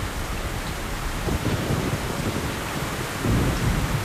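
Steady hiss of heavy rain with low rumbling thunder rolling underneath in the video game Metro: Last Light, continuous and fairly loud.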